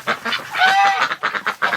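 Ducks quack and honk repeatedly in a rapid, overlapping chatter, close by in an enclosed space.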